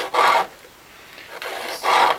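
Worn sandpaper is rubbed up and down on a wooden deck fitting, giving two distinct raspy scraping strokes separated by a softer, quieter rub, close up with no talk.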